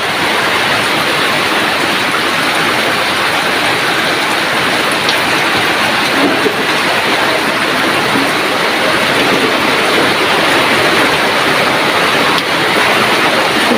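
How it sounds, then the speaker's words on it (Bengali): Heavy rain pours down on cattle in a dense, unbroken roar, loud and close, with a constant patter on surfaces and no talking. "ঝুম বৃষ্টি হচ্ছে দেখুন গায়ে গরুর গায়ে পানি পড়তেছে উপরে"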